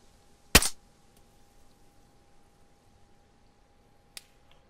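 A single sharp gunshot in a multiplayer video game on an SOS server, loud and close, followed by a much fainter distant crack a few seconds later, with otherwise quiet background and no talking.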